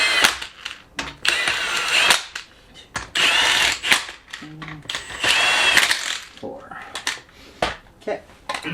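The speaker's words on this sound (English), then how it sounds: "So now I'm going to basically just start these with the impact" An impact wrench fires in short repeated bursts, starting lug nuts on a Foxbody Mustang wheel hub in a farm setting, close and sharp with clanks of the sockets and brief talk between bursts.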